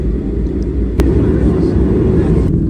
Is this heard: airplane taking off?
yes